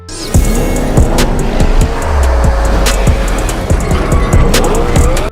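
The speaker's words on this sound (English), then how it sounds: "a brand new Porsche Panamera Turbo S" A brand new Porsche Panamera Turbo S with 620 horsepower, heard as a loud close engine roar with sharp revving and tire noise, running alone without talk.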